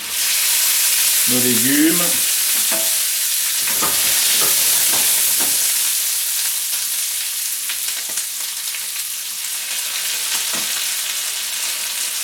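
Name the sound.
vegetables and artichokes frying in a pan with butter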